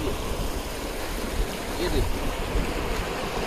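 Water forced out through an open sluice gate at a reservoir dam, a steady broadband roar of rushing flow that stays loud and continuous throughout, with no speech over it.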